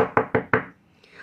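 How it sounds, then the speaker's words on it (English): Four firm knocks on a wooden door in a quick, even rhythm, close and clear, followed by quiet. "who should come knocking at the door but the wolf?"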